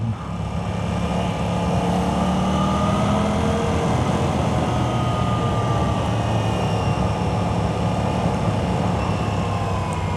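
An Aprilia RS 660 motorcycle engine revs while riding at sunset, a loud continuous roar with rising pitch sweeps, close and steady throughout without talk.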